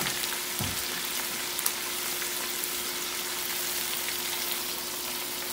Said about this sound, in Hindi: इसको हमने अब 3 मिनट के लिए लहसुन अदरक के साथ भूनना है